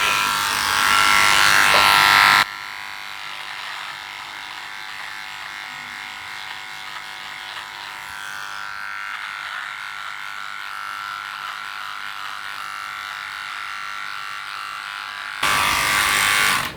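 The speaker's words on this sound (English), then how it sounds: "let's fire this rattly thing up. It's very rattly." A Philips S9000 Prestige shaver's trimmer attachment buzzes loudly and rattles in two short bursts at the start and end, with a quiet, faint hum in between.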